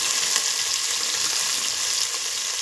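Cut eggplant pieces sizzling in a hot pan on a stove turned to low, a steady bright crackling hiss that stays close and even throughout with no talking.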